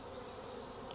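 Honeybees around a hive give off a brief, continuous droning buzz, soft and steady, with no voices.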